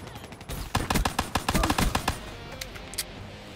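Gunfire in a shooter video game: rapid bursts of shots in quick succession for about a second and a half, then a few scattered single shots, fairly close with no voice over them.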